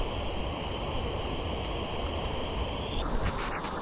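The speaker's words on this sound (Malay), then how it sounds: "Pokok bawah ada sungai." Steady broadband rush of a river flowing below a jungle trail on Gunung Chemerong in Terengganu, continuous and fairly close with a constant level, a high insect-like tone running through until it fades near the end.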